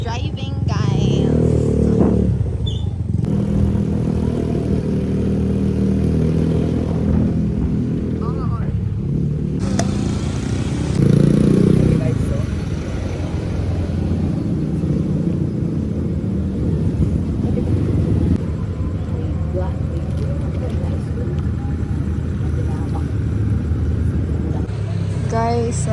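A family car driven by the mother, with a steady loud engine and road rumble throughout, voices chattering over it inside the cabin.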